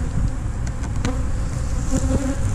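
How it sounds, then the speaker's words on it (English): Honey bees buzz around a beehive in a steady, close insect drone that continues throughout, with a few louder passes as individual bees fly near. "Had a few bees going up in here."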